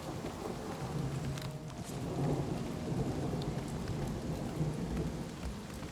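Steady rain and low rumbling thunder from The Elder Scrolls IV: Oblivion, a continuous wash of falling rain with a soft roll of thunder beneath. No one speaks.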